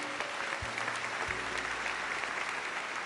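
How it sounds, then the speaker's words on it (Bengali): Studio audience clapping on a Bengali family game show: a soft, even wash of applause that holds steady for about three seconds without a break. "জোরে একটা হাততালি হয়ে যাক।"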